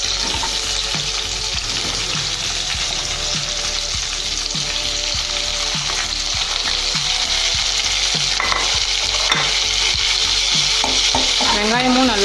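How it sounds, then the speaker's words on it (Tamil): Sliced onions and five green chilies sauté in a pan for Kerala-style Malabar biryani, giving a loud, continuous sizzle with a rhythmic series of spatula strokes throughout. "நல்லா வதக்கிக்கோங்க"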